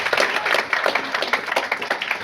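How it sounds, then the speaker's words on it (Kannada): Loud, dense applause from an audience at an award ceremony, steady clapping filling the whole stretch with no pause. "ಜೋರಾದ ಚಪ್ಪಾಳೆ"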